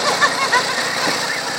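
A tractor engine runs steadily at close range while the tractor is being driven, a constant mechanical drone beneath a voice.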